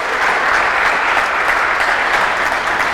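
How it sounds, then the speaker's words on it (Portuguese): A church congregation bursts into sustained applause, with many hands clapping in an even, dense roar that holds steady and loud for the full three seconds. No speech rises above it. "Dá para dar um aplauso a Jesus aí"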